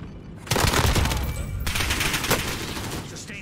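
Sustained automatic gunfire in Call of Duty Warzone on Verdansk, a loud dense burst of rapid shots starting abruptly and continuing for several seconds, with a few sharper cracks standing out.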